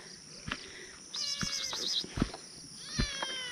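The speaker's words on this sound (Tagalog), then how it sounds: "May pusa pa." A cat meows close by several times, short calls spaced across a few seconds, over a faint chirp of insects and birds outdoors on a scenic mountain in Pampanga.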